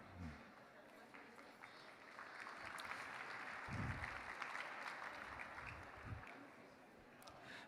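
Sustained applause from a large audience at a Gujarati community cultural event in Paris, a steady wash of clapping lasting several seconds with some voices mixed in.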